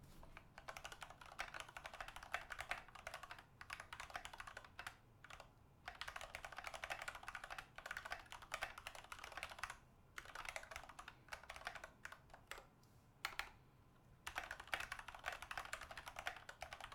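Fingers type on an h87a keyboard fitted with Choc switches, giving a quiet, rapid clatter of keystrokes in steady bursts separated by short pauses.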